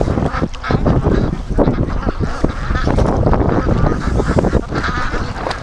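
Ducks or geese swimming near a kayak give a dense, continuous run of loud honks and quacks from several birds at once, with paddle splashes mixed in throughout.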